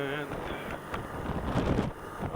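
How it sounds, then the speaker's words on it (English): Wind buffets the microphone outdoors on a windy, cool day in Arizona, a steady low rumble with gusts that swell louder toward the end, under a voice. "A little windy today."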